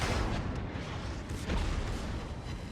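A naval gun volley in World of Warships, a deep rumbling boom that rolls on as a sustained roar, loud and unbroken for a few seconds.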